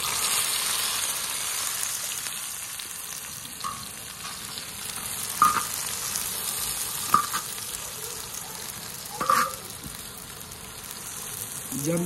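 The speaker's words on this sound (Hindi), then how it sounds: "घी गर्म हो गया है, अब इसमें मैं प्याज डाल देता हूँ।" Onions frying in hot ghee in a village kitchen, a steady crackling sizzle throughout with occasional sharper pops and clinks of a utensil, close and fairly loud.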